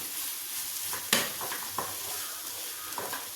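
Grated coconut sautéed with onion and spice powder in a pan for a brinjal-potato curry: a soft, steady sizzle broken by the scrape and clack of a spoon stirring a few times, close and without talk.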